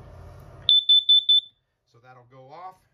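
An LP gas detector alarm in a Gulfstream Conquest 199RK RV gives four sharp, high electronic beeps in quick succession after a low hum. Someone speaks briefly afterward.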